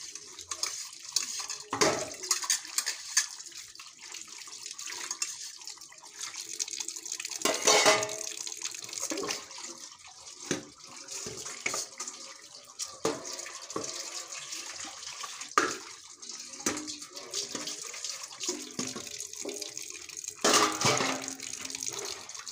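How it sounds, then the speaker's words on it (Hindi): Bowls being washed at a kitchen sink under running tap water, with steady splashing and flow broken by clinks and knocks of dishes, fairly close and no talking. "सारे कटोरे धो के रखूं मैं पहले,"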